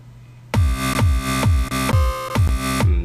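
Hard electro synth built in FL Studio with sidechain compression, playing a loud, bright chord stab that pumps rhythmically with a punchy low thump about every half second for under three seconds, with no talking.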